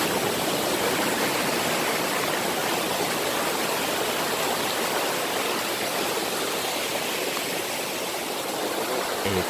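A mountain stream rushes in a steady, dense broadband wash with no pause, close and even throughout, with no voices over it.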